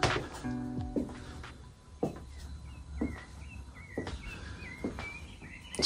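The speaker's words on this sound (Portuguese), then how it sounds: "Só os passarinhos cantando aí." Small birds chirp and twitter faintly at a distance, with scattered soft knocks and rustles nearby.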